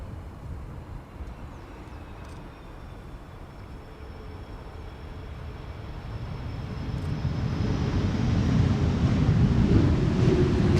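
An Airbus A330 returning from Toronto lands at Schiphol's Polderbaan with thrust reversers held at idle, a steady, calm rumble with wind that grows gradually louder toward the end without becoming very loud.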